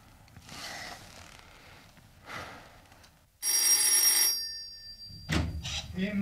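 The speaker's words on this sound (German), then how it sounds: "Immer geht das Telefon." An old landline telephone bell rings in an indoor setting, one loud burst of about a second after softer rustling sounds, followed by a brief clunk as the handset is handled.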